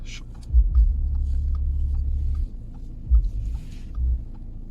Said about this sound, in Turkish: Sesi de çok güzel, hoşuma gidiyor. Tam bir 4 silindir, 2 litrelik motor.